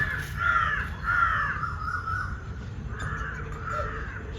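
Crows caw repeatedly while taking offered food, mostly cooked rice, outdoors: a run of harsh, nasal calls in uneven bursts, fairly close and loud over a steady low background rumble.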